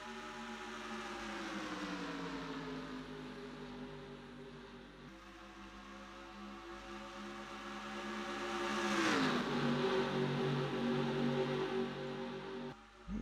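Stock racing cars on a speedway oval roar together at the start of a night race, a loud sustained engine drone that rises in pitch and swells toward a peak before easing off, with no voices.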